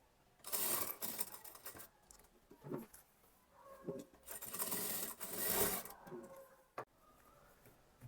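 A sewing machine stitches tucks on an Anarkali kurti in faint bursts of rapid mechanical whirring, starting and stopping several times with quiet gaps between runs.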